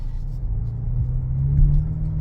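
A 2024 Ford Mustang convertible with an inline-four turbo engine accelerates, its deep, steady engine rumble close and continuous, swelling slightly toward the end with no talking over it.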